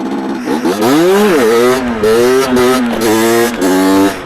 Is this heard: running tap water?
no